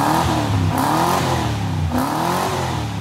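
A 5-liter V8 Ford Falcon revs up and down in steady, loud swells, its deep burbling engine note rising and falling twice close by with no voices over it.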